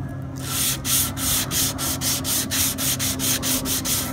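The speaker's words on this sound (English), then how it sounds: "I just want to show you this concave sanding pad here. I've got a sticky back sandpaper." Sticky-back sandpaper on a concave sanding pad rubs back and forth over a surface while a Union Jack is being painted, in about a dozen quick, even strokes, close and steady.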